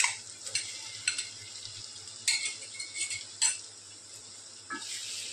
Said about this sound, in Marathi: आता मी प्रॉन्स घालते